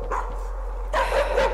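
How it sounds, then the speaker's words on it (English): A dog barks in the horror video game Layers of Fear, giving a couple of quick, sharp barks amid a low ambient drone. "Barking dog!"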